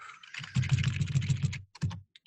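Quick, light typing on a computer keyboard while editing Python code for a VEX robot, a close burst of clicking keys followed by a short pause and a few final taps.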